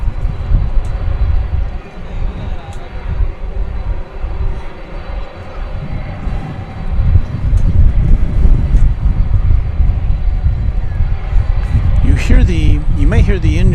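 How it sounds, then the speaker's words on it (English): Boeing 747 jet engines roar in a low, continuous rumble that swells louder midway, with a few high tones and a brief voice near the end, at DFW Airport. "You may hear the engines of the 747 in the background."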